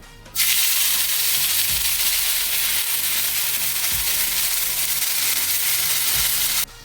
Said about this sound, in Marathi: आता आपण त्याच्यामध्ये किसलेलं रताळं घालूया